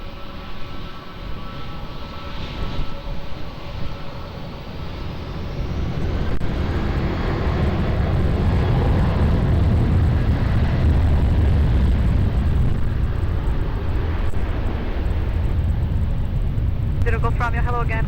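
A passenger airplane takes off from Lisbon Airport's runway 20, its engine roar building from a distant hum into a loud, sustained rumble. Radio voices from air traffic control are heard alongside.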